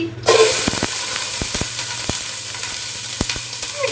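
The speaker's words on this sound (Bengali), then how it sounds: "তেল গরম হয়ে আসছে, সো পেঁয়াজ কুচি আমি দিয়ে দিচ্ছি।" Chopped onions drop into hot oil and sizzle loudly and steadily, with a burst at the start and scattered crackles and stirring clicks throughout, close and without talk.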